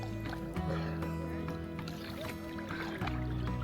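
A boat on water, a continuous engine drone with a low hum and churning wash, steady and close through the short stretch.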